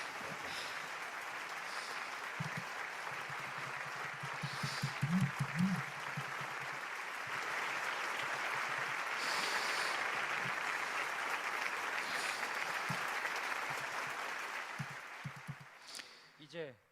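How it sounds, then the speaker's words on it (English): An audience at a large religious youth blessing festival applauds warmly for a long stretch, broad steady clapping swelling in the middle and fading out near the end, with a speaking voice at times. "let us give a big warm round of applause to God's only begotten daughter, our true mother"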